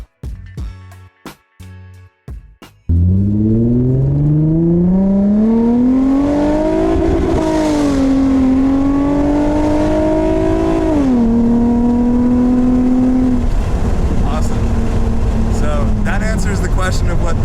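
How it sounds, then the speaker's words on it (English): An Infiniti G35 Coupe with a Motordyne exhaust starts with a few clicks, then fires up and revs loud and close, climbing, holding and dropping back in long pulls before settling. "Question of what the Motordyne exhaust setup sounds like."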